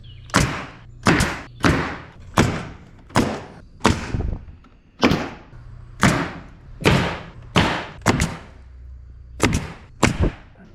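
Wooden trim boards are tapped into place around a door frame, giving a steady series of about fifteen loud, sharp thumps at irregular one-second intervals, each one close and clear with no talking.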